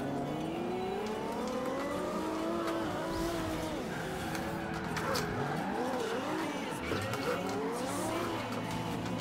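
Car engine revving and sliding through a drift in the racing game Forza Horizon 2, gliding engine pitch rising and falling with tire squeal over continuous loud game audio, with a voice talking faintly underneath.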